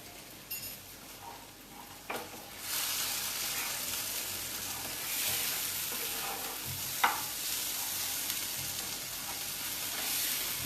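Turmeric, cumin and chilli powder frying in a pan, a steady close sizzle with occasional scraping stirs and clinks, the hiss swelling after a few seconds and holding.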